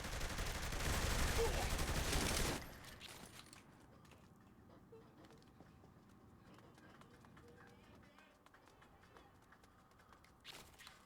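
A submachine gun fires in Saints Row: The Third as a dense, loud burst of rapid shots for about two and a half seconds, then gives way to quieter game ambience and light clatter.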